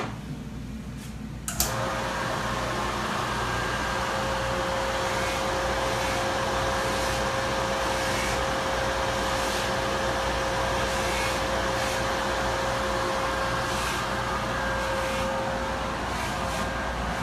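A polishing buff loaded with red rouge compound working a ring, starting with a sharp contact and then holding a steady loud motor whir with a constant high tonal whine.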